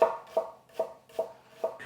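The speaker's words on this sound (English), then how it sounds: "we're going to finely dice them to the same size as the gherkin as well." A knife finely dices shallots on a cutting board, giving five evenly spaced, crisp chopping thuds close by, with no talking.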